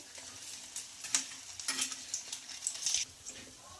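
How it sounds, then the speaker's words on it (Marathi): Vadas for vada pav dropped into hot oil in a kadhai wok, giving a soft, steady sizzle with several sharper crackling bursts as each fritter hits the oil, close and fairly quiet, with no talking. "तर अशाच पद्धतीने आपल्याला सर्व वडे कढईमध्ये सोडायचे आहे."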